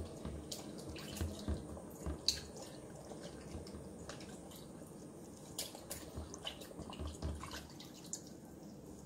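Wool nappy cover swished around by hand in a basin of lanolin water, giving soft, quiet sloshing and dripping with scattered small splashes and trickles at close range, no voices.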